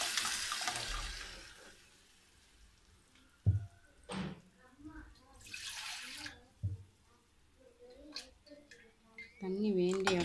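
Tamarind water and mashed elephant yam mixed with turmeric and chili powder pour into a pan for karunai kilangu masiyal, giving a few splashy, trickling bursts with soft clinks between quieter gaps.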